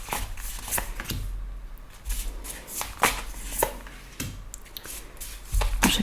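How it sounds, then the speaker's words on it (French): Tarot cards slapped and slid onto a table one after another, soft papery swishes and taps at irregular intervals, close and fairly quiet with no talking. "Je place les cartes"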